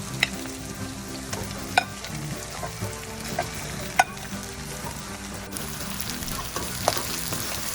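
Coarsely ground lentil paste with cluster beans frying in oil without water, a steady close sizzle punctuated by repeated sharp spoon clacks against the pan as it is stirred.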